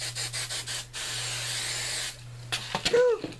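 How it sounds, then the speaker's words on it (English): Spray can hissing onto a handmade Christmas clock decoration, a few short bursts followed by one long steady spray up close, then a brief pause and light scraping handling sounds. "I'm just going to spray a last time to fix it"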